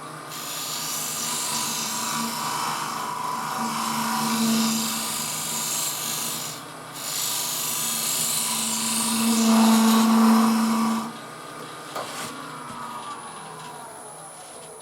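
A skew chisel held flat as a scraper rubs against a spinning wooden clay former on a lathe, giving a steady, loud whirring hiss with a low motor hum that swells and dips, then stops near the end.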